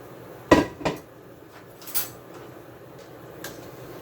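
Washed rice goes into a pot of coconut milk and blended peas for Jamaican rice and peas, giving a few sharp, close clinks and knocks, two quick ones early and a softer one later, over quiet background.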